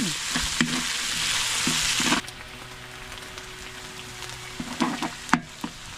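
Pepper sautéing in a pan for Lucban pancit habhab, a loud steady sizzle for the first two seconds, then quieter frying with scattered scrapes and stirring clatters near the end.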